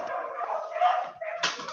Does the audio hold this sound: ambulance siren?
no